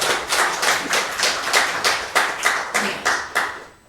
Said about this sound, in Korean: 박수 주시니까 역시 점심이 나오겠다는 기대가 됩니다